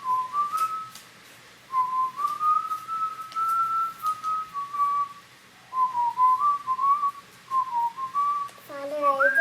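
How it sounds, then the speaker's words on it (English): A person whistles the tune Father Abraham outdoors overlooking woodland and a village: a clear, close melody in several phrases separated by brief pauses, alone without talk. "he was whistling a familiar tune"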